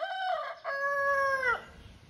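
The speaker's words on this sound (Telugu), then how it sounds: "మీకు కోడి కూత ఒకసారి వినిపిస్తాను ఖచ్చితంగా" A rooster crows once nearby, clear and loud: a short rising note followed by a long held call that drops off at the end.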